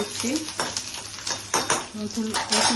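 Garlic drops into hot oil for mutton kosha and fries, with bursts of sizzling and clattering metal stirring against the pot in uneven strokes, close by; a voice is briefly audible.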